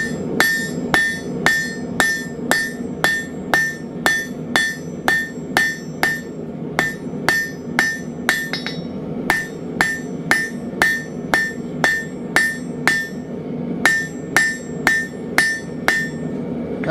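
Blacksmith's hammer striking hot steel on an anvil while drawing out stock for a dinner bell triangle: steady, ringing, close blows at roughly two per second, with brief pauses between runs of strikes and no talk.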